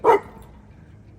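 A dog gives a single sharp bark close by, then fades into faint background rustle and quiet noise.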